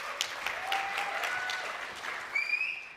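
Audience applause at a software company's product-release conference, a steady sustained clapping from a crowd throughout, moderately distant, with faint tonal sounds layered over it.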